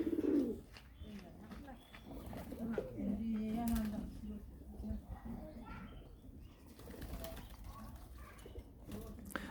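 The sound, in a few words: pigeons cooing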